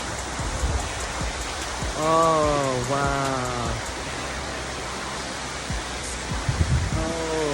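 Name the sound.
waterfall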